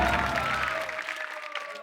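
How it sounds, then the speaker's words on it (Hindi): A studio audience claps in a short burst of applause, loud and close at first and then thinning out as it tails off. "जोरदार तालियां।"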